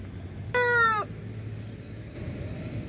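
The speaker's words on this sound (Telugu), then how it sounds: "ఓన్లీ నాటుకోళ్ళు మాత్రమే సాగుతూ ఉన్నాడు ఇక్కడ" Free-range country chickens in a poultry farm shed, with one loud, drawn-out squawking call standing out for about half a second before the shed settles back to a low background hum.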